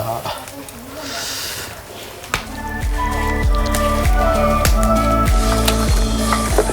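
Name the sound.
satay skewers put into boiling water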